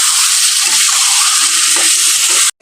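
Marinated chicken sizzles loudly in a hot pan, a dense continuous hiss of frying with faint stirring clinks beneath, cutting off abruptly at the end.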